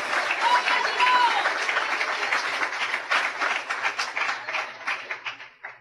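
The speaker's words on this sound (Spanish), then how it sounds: "Den un aplauso al Señor Jesucristo, porque Él es digno de alabanza." Congregation applause at an evangelical sermon, a steady wash of clapping from a large crowd that thins and becomes more scattered toward the end, with a faint voice briefly over it.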